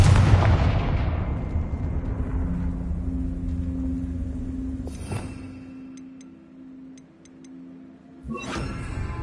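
A Confringo fire spell blasts in the Hogwarts Legacy video game with a loud booming burst that rumbles away, followed by two more sharp explosive cracks, one midway and one near the end.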